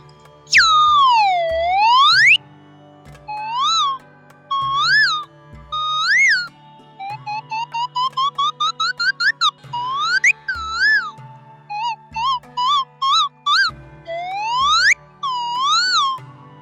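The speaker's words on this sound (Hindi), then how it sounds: "ये कोयल है सर। हाँ, इसकी आवाज़ देखिए जी।" A koel bird-call whistle flute, a bamboo flute from a street flute seller, plays a long run of rising and falling whistled calls, some slow swooping notes and some quick repeated chirps, loud and close with a faint steady hum beneath.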